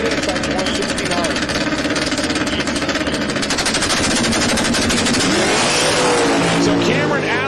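Supercharged Mustang drag race car roaring down the strip at a drag racing event, loud and sustained with a harsh buzzing rasp that shifts pitch near the end.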